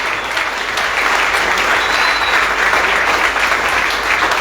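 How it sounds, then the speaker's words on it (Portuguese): Loud, sustained applause from a church conference congregation welcoming a pastor, a thick wall of clapping with some crowd noise mixed in. "Me ajudem, por favor, com forte salva de palmas para receber pastor"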